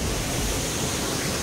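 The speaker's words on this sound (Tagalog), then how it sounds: "I think ito yung lowest level, yung pinakababa na bahagi ng Biga Falls" Lowest level of Bega Falls, a continuous broad rush of falling water, steady and fairly close, with no other sounds standing out.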